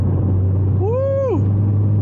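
A 1.4 Ford Fiesta hatchback engine hums steadily at low pitch while coasting downhill, with a brief rising and falling whine in the middle; no voices.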